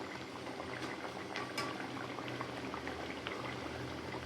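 Hilsa fish in mustard sauce bubbles at a gentle boil in a covered pot, a continuous soft burble with small pops, steady and fairly quiet, with no talking.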